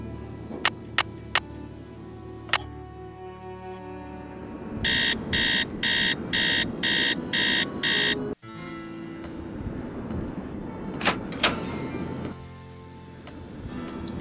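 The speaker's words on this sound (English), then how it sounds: "Let's set the alarm for a little bit later" A buzzing alarm in the Nancy Drew game Treasure in the Royal Tower sounds in a run of seven evenly spaced loud pulses, with game music and scattered clicks before and after.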